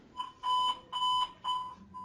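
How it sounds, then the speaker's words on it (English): An alarm sounds in a repeating pattern of loud, evenly spaced electronic beeps, each lasting about a quarter second, heard nearby and alone. "I hear an alarm going off"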